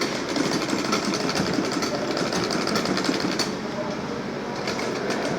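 A sewing machine stitches rubber-backed leather for a box-shaped purse, its steady rapid mechanical chatter running loud and continuous throughout with no pauses.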